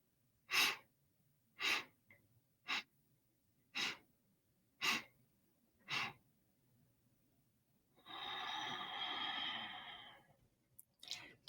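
Deep breathing during a guided breathwork exercise: six evenly spaced, clear breaths followed by one long, slow, sustained exhale, close and alone in a quiet room.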